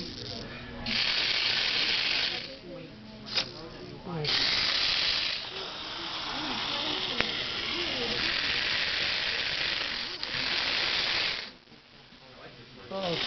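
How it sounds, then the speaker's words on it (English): Motors and a servo on a VEX robotic arm whir and grind as the arm lifts, lowers and works its claw, buzzing motor runs starting and stopping in bursts, close and moderately loud, with brief gaps. "That motor right there is the lifting and lowering of the robotic arm."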